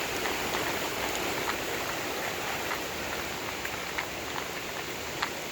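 Steady rain during Hurricane Irma at Disney World, a dense continuous hiss of drops with a windy rush underneath and small gusting swells, loud and unbroken throughout with no voices.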